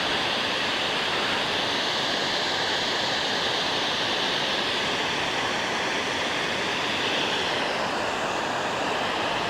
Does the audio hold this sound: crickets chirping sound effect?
no